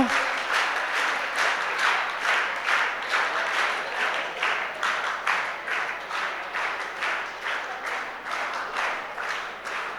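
Sustained audience clapping at a school prize-giving honouring top students, dense and continuous for the full stretch with gentle surges and no voices.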